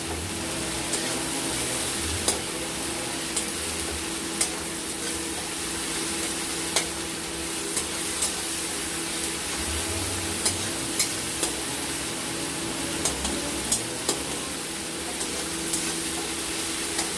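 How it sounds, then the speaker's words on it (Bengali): Tomatoes with salt frying in a pan while fish kofta curry is being prepared. A loud, continuous sizzle runs throughout, with a spoon scraping and tapping the pan at irregular moments. Nobody speaks. "টমেটোটাকে 2-3 মিনিট ভেজে দেখুন লবণ দিয়েছে, এমনি সিদ্ধ হয়ে যাচ্ছে।"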